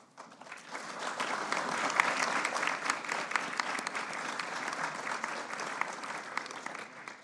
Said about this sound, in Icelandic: Við ætluðum að klappa bara eftir alla deildina, en fínt, takk.